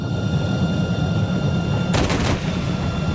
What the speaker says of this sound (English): Oh, curse the low rate of fire on the MiG-15